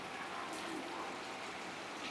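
Heavy rain pours steadily over a village in Botad, a dense, even roar of drops hitting surfaces that stays constant throughout, near and enveloping with no talking.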